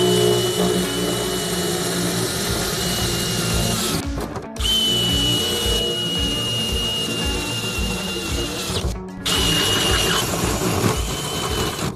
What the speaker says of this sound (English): I'm going to drill a few holes and cut it with my Snapper Shear Pro because it's a lot easier.